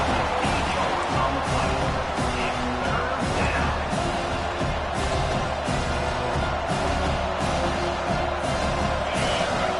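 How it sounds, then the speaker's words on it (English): A loud, dense crowd roars continuously in a large stadium during a football game, a sustained wall of noise with a faint voice underneath. "Listen to this crowd just shaking the girders of this place, trying to help their defense."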